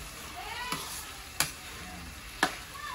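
Tomato, onion and garlic sautéing in a pan give a steady soft sizzle, interrupted by three sharp clicks or taps of a utensil against the cookware.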